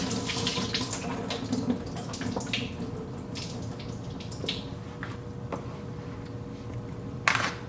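Water drains from a tofu package into a kitchen sink, a continuous splashing trickle with small drips and a brief louder splash near the end.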